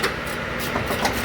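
A failing air compressor drones steadily with a rough, rattling churn and faint periodic clanks, loud and close, with no voices.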